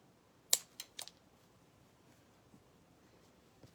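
A few quick, crisp scissor snips close by, two or three cuts in the first second and then quiet with faint background noise.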